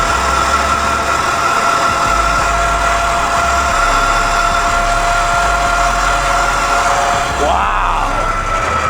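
A dirt bike engine runs steadily throughout, a constant mid-pitched drone with a brief rising rev near the end, loud and close with no talking.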